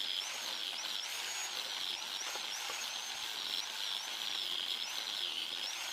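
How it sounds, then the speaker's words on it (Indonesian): A grinder fitted with a red sanding disc smooths the surfaces of rusty tools, giving a steady high-pitched whine with grinding hiss that continues unbroken. "kita akan melihatnya proses penghalusan semua permukaan alat-alat yang bisa dijangkau dengan gerinda amplas merah ini"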